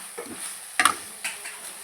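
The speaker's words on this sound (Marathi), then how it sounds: "त्याला चिंच गुळ हळद हिंग मीठ चटणी सगळं काही हलवून घ्यायचं" Bitter gourd being stirred in a pan with tamarind, jaggery, turmeric, asafoetida, salt and chutney spices, giving a faint soft sizzle with a few brief scraping strokes, one sharper clink near the middle.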